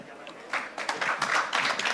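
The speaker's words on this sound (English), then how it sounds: "Please give Tal a very big applause" Audience applause at the Discovery Stage of a startup event, greeting a startup speaker from VSL Labs, rising after a quieter half-second start into a dense, steady clatter of clapping throughout.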